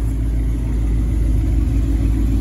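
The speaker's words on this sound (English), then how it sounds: "Right now, the exhaust is in track mode" A supercharged 2019 Ford Mustang GT Premium with a Stage 2 Whipple supercharger and Corsa exhaust set to track mode idles with a loud, steady, deep rumble that holds throughout without revving.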